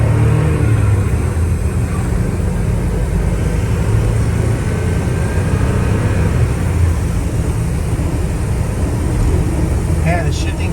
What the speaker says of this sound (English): Let's run through the gears real quick.